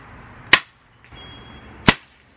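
A Daisy 880 air rifle fires two sharp shots about 1.4 seconds apart, first with a suppressor and then without, each a crisp close crack over quiet background.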